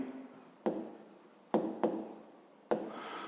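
A hand writes out a fifth-grade math exercise, pen or chalk scratching continuously with four sharp taps where strokes begin, close and clear with no talk.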